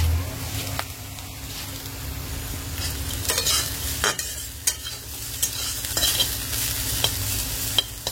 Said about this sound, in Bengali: আমি হচ্ছে করলা ভাজাটা আগে করে নিচ্ছি